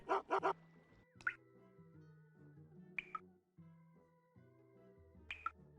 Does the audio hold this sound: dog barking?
yes